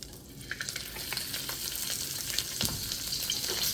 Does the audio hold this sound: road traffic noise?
no